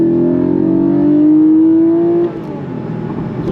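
The naturally aspirated flat-six engine of a 2025 Porsche 718 Cayman GTS revs high and smooth toward its 7,800 RPM redline, pitch climbing steadily before dropping off as the throttle eases, loud and close with no talking.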